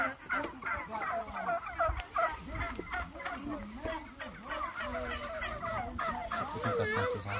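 Birds in a fenced farm pen, likely turkeys, gobbling and clucking in repeated overlapping calls at close range, steady throughout.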